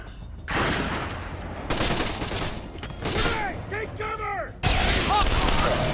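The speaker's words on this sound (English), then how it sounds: "Let's have a gunfight." Gunfire in a John Wick video game: loud, dense bursts of automatic fire and shots that come in waves, with a gap just before a heavy volley near the end, and voices shouting among the shots.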